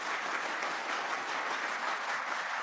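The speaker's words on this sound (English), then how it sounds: "A round of applause in a Senate hearing?" Steady applause fills a Senate subcommittee hearing room, a dense, even wash of many hands clapping at moderate distance without letup.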